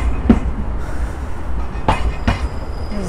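A tram passes close by on its rails as a loud, continuous rumble broken by sharp wheel clicks and a thin squeal near the end, with no talking.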